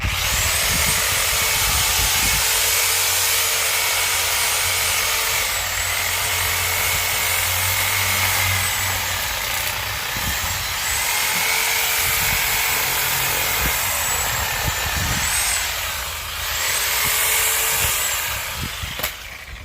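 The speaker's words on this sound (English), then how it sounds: "Sawzall makes really light work of that" A Sawzall reciprocating saw cutting branches into small logs on a ranch, a loud continuous buzzing rasp that runs the whole time with brief dips and surges as the blade bites.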